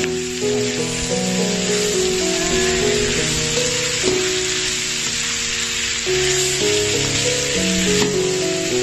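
Bean sprouts sautéing in a hot pan give a steady, loud sizzle and frying hiss that runs the whole time, with melodic background music playing underneath.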